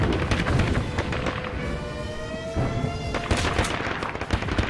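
Gunfire in the video game All Guns on Deck comes as a dense, steady clatter of rapid shots and impacts, with a sustained rising tone running through the middle and no clear speech.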